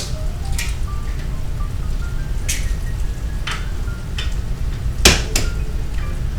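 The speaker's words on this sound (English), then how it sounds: "Crack 4 more eggs." Eggs are cracked one after another while cooking a cabbage dish with eggs, ham, cheese and vegetables: several sharp, close taps and cracks at irregular intervals over a low steady background hum.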